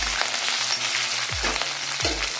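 Tempering seeds, curry leaves, garlic, dried red chillies and green chillies frying in hot oil for a chow chow fry: a close, steady crackling sizzle broken by a few low scraping stirs of the pan.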